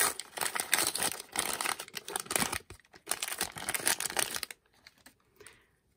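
A small plastic packet from a LOL Tweens doll set crinkles and rustles as it is torn open up close, in dense bursts of crackling for about four seconds before fading to quiet handling.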